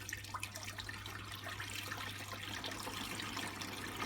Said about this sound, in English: Pour a bit of water in, I guess.